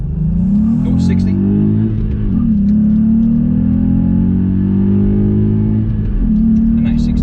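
2019 Volkswagen up! GTI accelerating hard from a junction to 60, a loud steady cabin engine drone climbing in pitch through the gears with brief dips at each shift, with faint rattles and some talking inside the car.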